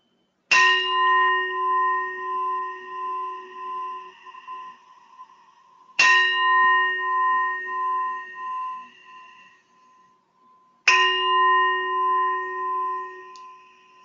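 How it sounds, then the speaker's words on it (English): A meditation bell rings three times, each a clear, bright strike with a long, pulsing, shimmering decay that fades toward silence before the next, close and alone without any talking. "At the sound of my bell, you may open your eyes very slowly."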